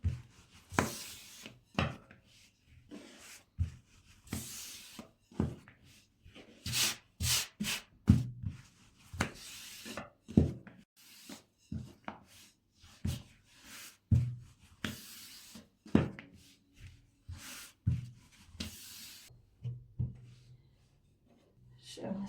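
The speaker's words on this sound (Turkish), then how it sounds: "Böyle kıyılarına basa basa yavaş yavaş hamurumuzu açıyorum." Lavash dough being rolled out thin on a board, a steady series of soft rubbing, pressing strokes repeating every second or so, close up, with someone talking over parts of it.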